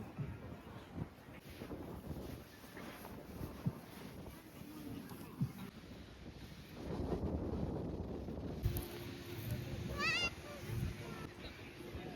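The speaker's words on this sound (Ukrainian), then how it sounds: "Вітер." Steady wind buffeting the microphone at a seaside resort, a low rushing roar that swells in gusts, with a brief higher chirping tone near the end.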